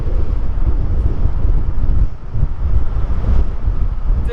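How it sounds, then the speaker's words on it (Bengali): Strong wind buffets the microphone beside a mountain at a high, bitterly cold border crossing, a loud, continuous roaring rumble with no voices. "আর সেই সাথে প্রচন্ড বাতাস"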